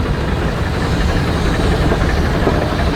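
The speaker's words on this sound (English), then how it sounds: "Look at this splendid twin compound engine." A twin compound steam engine at a steam rally runs steadily close by, a dense, loud mechanical rumble and chuffing vibration with no pause.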